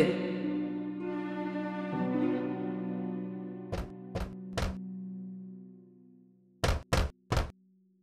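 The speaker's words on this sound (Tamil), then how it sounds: "பின்னர் குடிசைக்கு முன்னால் வந்து கதவை தட்டியது" A wolf knocks on a hut door in a story scene, first three evenly spaced knocks and then a quicker set of three, sharp and close, following a fading sustained musical tone.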